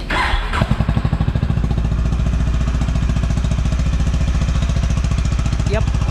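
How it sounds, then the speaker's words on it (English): A Honda H'ness CB350 motorcycle engine starts up and settles into a steady, loud, thumping idle close by, with the regular low pulses of its exhaust holding throughout. "Yep, that is how the Highness CB350 idles."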